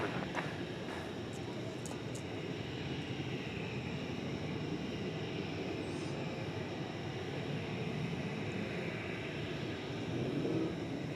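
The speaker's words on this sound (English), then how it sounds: "Qatar flies this type of jetliner twice a day here to DFW." A Qatar Airways jetliner at DFW airport at night, heard as a faint, steady distant engine rumble and broadband roar lasting throughout, low in level with no voices.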